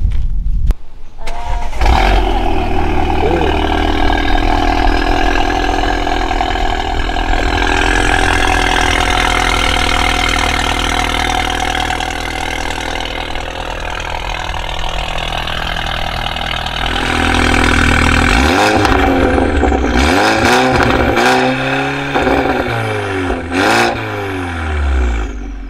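A BMW engine starts with a sharp crank, settles into a steady loud idle, then near the end is blipped through several quick revs that rise and fall, heard close with no talking.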